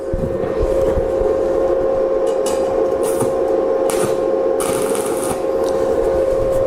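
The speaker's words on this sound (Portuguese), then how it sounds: "Dou um ponto de solda aqui." Stick-electrode arc tack welding on a steel frame being squared in a metalworking shop: a loud, steady electric buzz with a constant hum and short crackling bursts as each tack is struck, with no voices.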